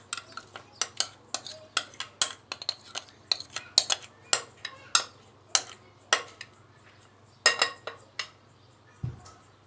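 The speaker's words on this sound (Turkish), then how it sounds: "ve şöyle kaşıkla üzerini düzeltelim" A spoon smooths red lentil bread batter in a square glass baking dish, making a steady series of light scraping clinks against the glass, fairly close and with no talking.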